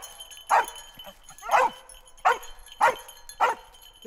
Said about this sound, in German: wenn er einen Helfer gefunden hat oder eine vermisste Person, zeigt er das durch Bellen an